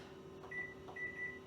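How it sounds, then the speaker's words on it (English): A kitchen microwave oven gives two short, thin electronic beeps, the second one longer, over a low steady hum at quiet volume, with no talk. "the microwave is going off"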